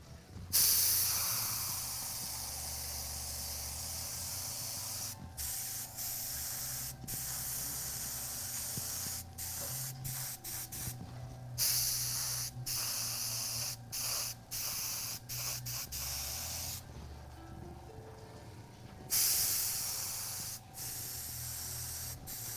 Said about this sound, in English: The airbrush thing.